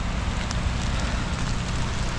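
Rain falls steadily at a snow and ice race in Băiuț, Maramureș, hissing evenly and densely without a break. There are no voices.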